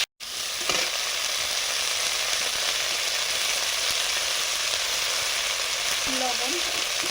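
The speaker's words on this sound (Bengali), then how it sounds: "ওই শাকের ডাঁটাগুলো হালকা ভেজে নিচ্ছি" Tender red amaranth stems frying lightly in oil for a fish curry, a loud steady sizzle running close and unbroken from start to end after a brief silence, with no talk over it.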